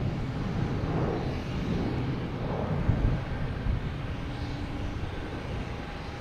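An Alaska Airlines Boeing 737-900 at Boston Logan Airport gives off a steady, distant jet-engine roar that swells slightly and holds over several seconds, faint and broad, with no talking.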